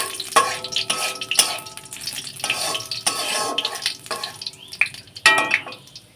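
Tempered spices stirred in a pan, loud repeated scraping strokes of a spoon against metal in uneven bursts over a light sizzle, close and prominent.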